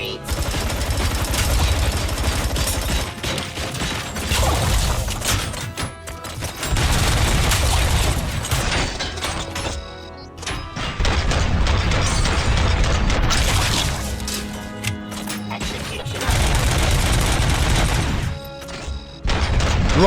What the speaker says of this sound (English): Let me try this assault rifle out.